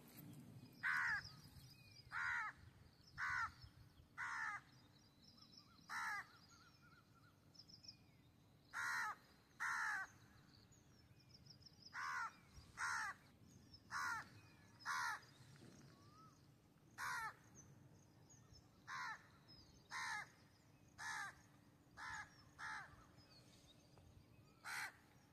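A crow caws from a tree beside rice fields in rainy weather, giving repeated short harsh calls in groups over a quiet rural background, moderately close and steady for about twenty-five seconds.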